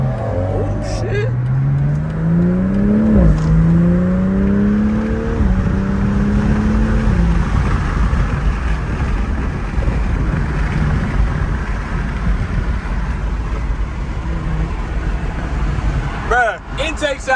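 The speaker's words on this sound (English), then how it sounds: "intake sound crazy" A 2020 BMW M340i xDrive engine rises and falls through several revving surges, then settles into a steady loud roar from inside the cabin, with occasional talking over it.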